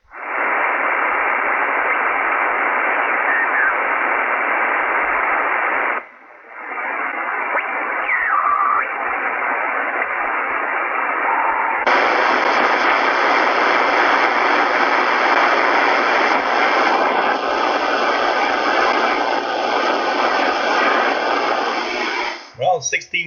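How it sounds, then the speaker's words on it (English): Dense, steady shortwave static hisses loudly while a receiver is tuned across the amateur bands, cutting out briefly midway, then shifting to a brighter, wider roar before stopping abruptly. "I'm going to continue tuning around the bands."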